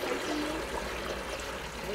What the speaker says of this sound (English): you can see that the water goes